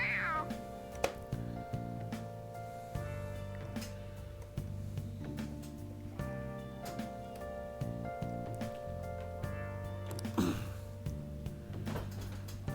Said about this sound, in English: I love his cat sounds.